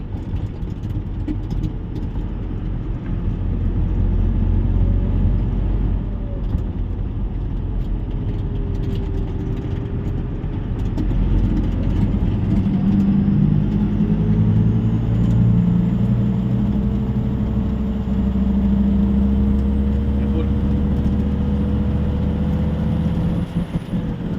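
A car engine fitted with a new HX50 turbo drives along, a loud continuous rumbling drone with faint rising and falling whine tones over steady road noise, no voices.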